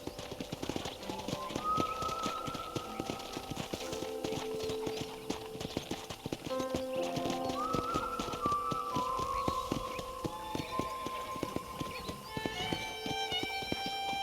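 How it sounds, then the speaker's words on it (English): Horse hooves clip-clop in a steady walking rhythm in Red Dead Redemption on a ranch, close and clear under a layer of music with a brief whinny, while someone speaks occasionally. "let's see if you can still ride a horse"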